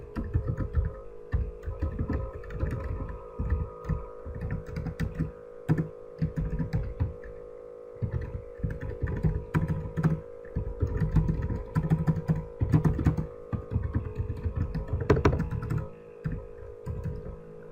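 Java code being typed on a computer keyboard: a steady, busy clatter of keystrokes over a low background hum, continuing with only brief pauses throughout.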